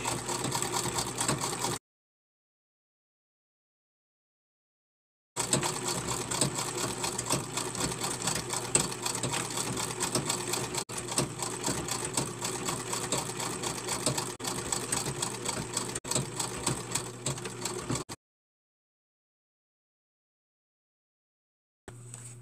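An antique treadle sewing machine, over 100 years old, stitches dice bags in a steady, close mechanical whirr and clatter. There are two long runs, with silent pauses before and after.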